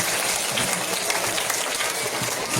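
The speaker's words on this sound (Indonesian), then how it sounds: "Tepuk tangan sekali lagi untuk kalian" Students applaud at a religious school assembly in an Indonesian primary school, a steady, dense burst of clapping that continues without pause.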